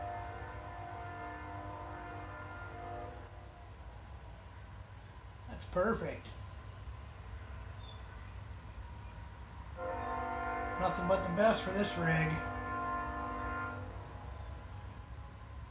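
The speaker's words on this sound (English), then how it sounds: "Sorry about the train horn if you can hear that." A distant train horn sounds in two long blasts with a pause between, while someone speaks briefly over it.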